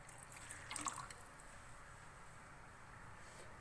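Water pours into a pot of yogurt and gram flour batter, a soft close splash and trickle that fades into a low steady wash.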